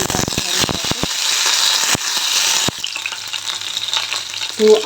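Mustard seeds splutter in hot oil, a dense near crackle and popping with spoon scrapes, loud and continuous before easing slightly toward the end.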